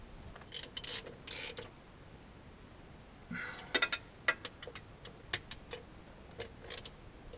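A wrench tightens the two small bolts that hold a sensor on a tractor, giving quiet, close ratcheting clicks in short bursts separated by pauses, with no voices.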